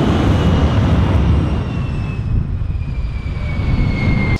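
A MiG-17F jet fighter roars past at the Canadian International Air Show, a loud broad rumbling jet noise with a falling whine that stays strong throughout, heard alone.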